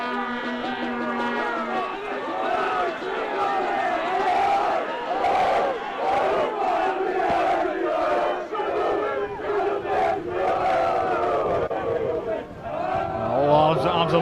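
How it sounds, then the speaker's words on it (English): At a school rugby match between Durham School and Adams' Grammar School, a crowd on the near touch line roars and chants continuously, loud and close, while a commentator talks over the noise. "Roared on by their crowd on the near touch line."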